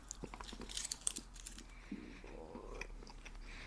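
Chewy candies such as licorice chewed close to the microphone in whispered ASMR style, with soft, irregular wet bites and squishy chewing sounds at low volume.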